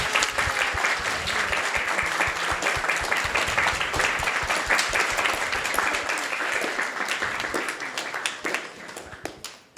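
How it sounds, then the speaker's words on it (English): A crowd claps for the teachers at a children's annual day and graduation celebration at a Vedic academy, a dense, lively applause with crisp individual claps that holds steady and tapers off near the end. "Please give them a round of applause."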